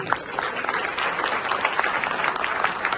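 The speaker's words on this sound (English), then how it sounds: "give yourself a round of applause" Audience applause at a motivational seminar, a dense, steady wash of many hands clapping that holds evenly loud for the full few seconds, with no voices rising above it.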